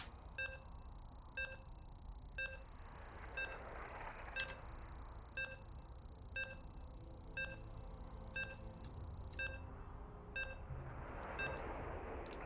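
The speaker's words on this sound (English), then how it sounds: "You can hear the beeps" Evenly spaced electronic beeps, roughly one per second, repeat over a steady background hum as players load into a StarCraft PvP match at a FEL Cracow 2025 qualifier, with no talk over them.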